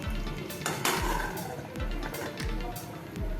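A metal lid clinks down onto a cooking pot of spicy dhaba-style veg Maratha, followed by a few more light metallic clanks and scrapes.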